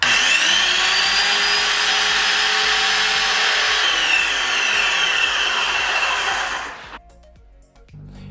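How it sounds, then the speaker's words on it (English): A Graco Magnum X7 airless paint sprayer runs with a loud, steady whine and motor hum for several seconds, then shuts off abruptly, leaving near-silence with faint background noise. "We're going to turn the machine back on again until you see paint draining out of the drain tube."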